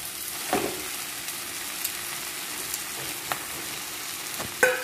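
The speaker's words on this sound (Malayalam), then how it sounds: "നന്നായിട്ട് ഇളക്കിയിട്ട് ഒന്ന് കുറച്ചൊന്ന് മൂപ്പിക്കുക." Masala paste with a little garam masala frying in a pan while being stirred, a soft steady sizzle broken by a few sharp clicks of the spoon against the metal, close and with no voices.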